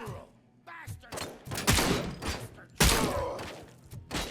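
Shotgun blasts in a video game, several heavy booming shots with the loudest near the middle and end, mixed with game noise and scattered clatter.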